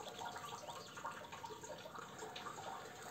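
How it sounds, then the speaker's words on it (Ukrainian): Spring water runs by gravity through a pipe into a catch basin, a faint, continuous trickling and splashing flow with no break and no voices. "як самотьоком йде джерельна вода до когось до хати"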